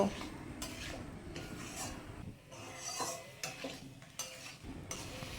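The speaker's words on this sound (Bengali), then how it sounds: "পোস্তটা দিয়ে আবারও আমি বেশ কিছুক্ষণ নেড়ে ছেড়ে কষিয়ে নেব" Poppy seed paste being stirred and fried with pumpkin and potato in a pan, with irregular scraping and clinking of a utensil against the metal over a soft, steady sizzle, close and moderately loud, no talk.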